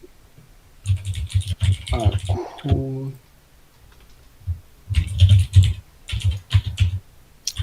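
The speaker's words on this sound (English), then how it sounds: "Whose keyboard is that? Because that is loud." Rapid clattering of a loud mechanical keyboard in bursts, with people talking over the typing in between.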